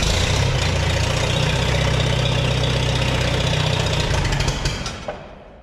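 A Farmall 300 tractor engine runs roughly at a loud, steady low rumble right up close, then sputters and dies away within a few seconds.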